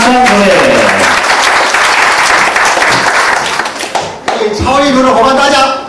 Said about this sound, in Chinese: 林讲师热烈掌声鼓励